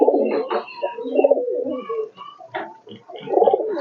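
Pet pigeons, including a satin pair, coo close by in their lofts, a series of soft throaty rolling coos overlapping one another with short pauses between calls.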